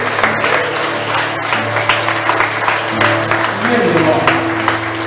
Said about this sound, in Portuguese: Aplauda esse Deus.